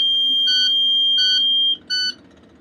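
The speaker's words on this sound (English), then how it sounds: "press our child check alarm at the back" A school bus child check alarm at the back of the bus sounds three electronic beeps, the first long and the next two shorter, loud and clear over a low hum.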